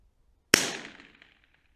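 A CZ 457 LRP rifle fires at a steel gong 300 m away: one sharp, loud crack out of silence, then a ringing tail that decays over about a second.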